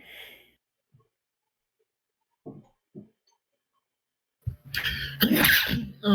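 A loud, abrupt sneeze bursts out near the end after a few faint clicks and breaths in an otherwise quiet room, close and sharp, with a brief trailing exhale.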